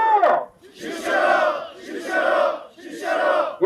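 Crowd of protesting farmers at a rally shouting slogans in unison, loud rhythmic group chants in several bursts separated by short pauses.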